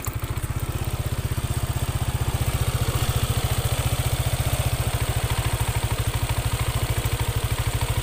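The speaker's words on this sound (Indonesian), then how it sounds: "Yamaha NMAX ini saya nyalakan, di bagian di bagian CVT itu suaranya bisa dikatakan halus ya." A Yamaha NMAX scooter idles with its CVT running, producing a steady, close, low-pitched engine throb with a fine mechanical clatter on top, holding even in level and rhythm throughout with no talking.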